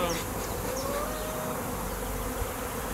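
A migrating honeybee swarm fills the air with a dense, continuous buzzing, individual bees droning past up close over the steady hum of the mass.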